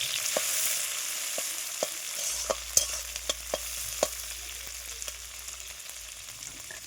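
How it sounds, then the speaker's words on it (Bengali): Cashews and raisins fry in a pan with a couple of cardamom pods, giving a steady hiss with sharp spoon scrapes and clinks from stirring at irregular intervals. "এবার ভালো করে ভেজে নেব।"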